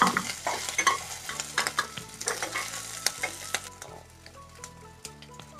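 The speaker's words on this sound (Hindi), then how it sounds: "ऑयल गर्म हो चुका है, अब हम इस पर डालेंगे प्याज। प्याज को एक मिनट तक हम भून लेंगे।" Onions fry in hot oil in a pan, sizzling and crackling close up while a utensil stirs and scrapes them in irregular bursts over a steady low hum.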